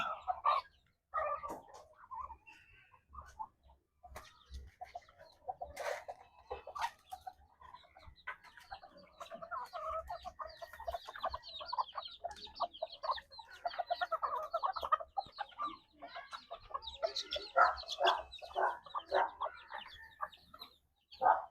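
Livorno and bantam chickens clucking in a backyard coop, a busy run of close, irregular clucks and short calls that rise and fall over twenty seconds with no talk.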